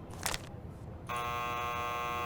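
A steady electronic buzzer tone from the game Nancy Drew: The Phantom of Venice, with harsh overtones, kicks in after a brief burst of noise and holds continuously to the end.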